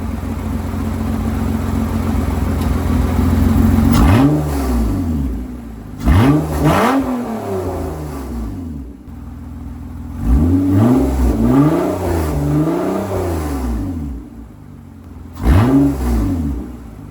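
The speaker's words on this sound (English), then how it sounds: "this is what it sounds like from the bottom of the car" Heard from beneath the car, a Toyota/Lexus 2GR-FE V6 exhaust with only the Y-pipe fitted blips repeatedly: short, throaty revs rising and dropping back to a rough idle, loud and near.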